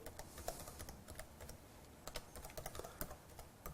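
Keys clatter in quick, uneven bursts on a computer keyboard as commands are typed, soft and close with brief pauses between runs of keystrokes.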